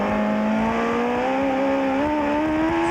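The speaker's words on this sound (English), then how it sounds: "Let's listen to Michael play with the throttle." An IndyCar race car at Laguna Seca in 1995, its engine droning loud and close as the driver works the throttle, the pitch climbing gradually and steadily through the whole stretch without a break.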